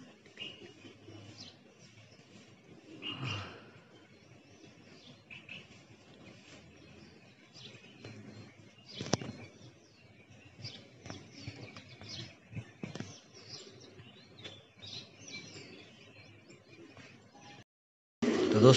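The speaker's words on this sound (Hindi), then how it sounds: "तो ये 2 कबूतरी फिर से उड़ गई।" Pigeons around a loft, with faint low cooing and scattered soft wing flutters in a quiet outdoor setting, punctuated by a few sharper flapping bursts and a loud burst of noise at the very end.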